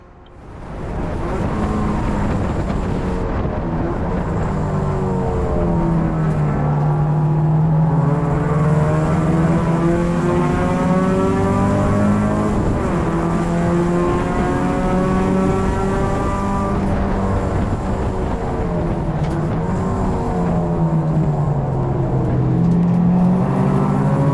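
Race cars at a 24 Hours of Lemons endurance race at GingerMan Raceway accelerate hard toward the final corner, engines loud and continuous, rising and shifting through gears as they close in and pass, with no talk.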